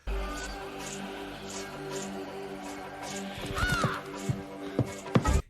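A crow caws in a scene from the film The Crow, with a sharp cry rising out of a low droning score near the end, followed by a few more scattered bursts.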